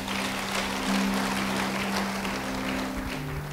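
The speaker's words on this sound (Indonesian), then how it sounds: "Beri tepuk tangan bagi dia" A church congregation claps for a while during a sermon, a dense, even wash of applause held at steady moderate volume over a low sustained hum.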